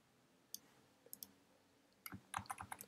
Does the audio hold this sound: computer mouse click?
yes